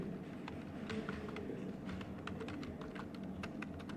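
Keys clatter on a computer keyboard in quick irregular bursts, faint and close, over a low steady background hum and without any voices.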